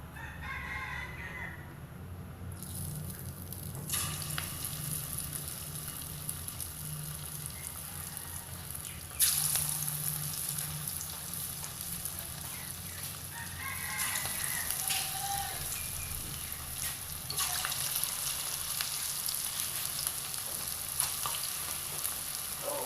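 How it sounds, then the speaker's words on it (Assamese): Mogu (moong dal) and potato pakoras fry in hot oil with a steady, continuous sizzle throughout, while a rooster crows now and then in the background. "তেল গৰম হৈ গৈছে মই এতিয়া পকৰি দিম"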